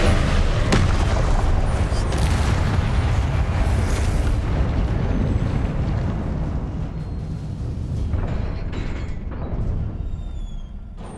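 A loud, close Confringo spell explosion in Hogwarts Legacy, a heavy roaring blast that fills the opening seconds and then rumbles on, slowly fading toward the end.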